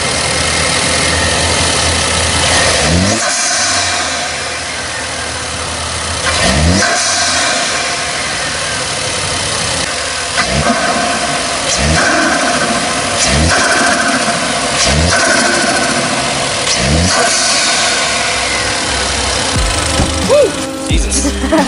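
A Ford Fusion 2.0L fitted with a cold air intake idles and is revved repeatedly, each throttle blip rising and falling in a regular pattern over a steady engine drone, loud and close.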